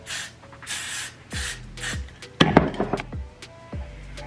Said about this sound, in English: I'm just gonna spray the hairline and then hot comb it back